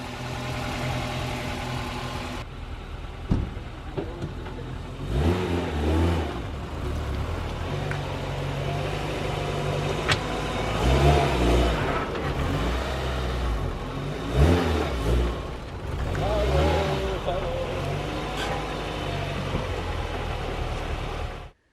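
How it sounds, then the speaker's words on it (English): A swapped Honda H22A engine in a fifth-generation Prelude race car revs up and settles repeatedly at close range, with a misfire fault, rising in several bursts over a steady idle. "Still pretty smooth, but there's definitely a misfire."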